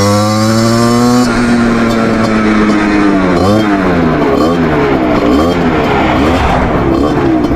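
A motorcycle engine runs cold in sub-zero weather, starting as a steady loud drone and then shifting into uneven swells and dips in pitch as the throttle is worked. It sounds close, with no talk.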